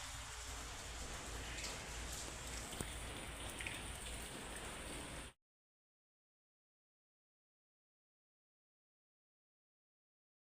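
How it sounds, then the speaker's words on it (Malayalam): Heavy rain falls outside in a steady, dense hiss for about five seconds, then cuts abruptly to silence, with no voices. "പുറത്ത് നല്ല മഴയാണ്"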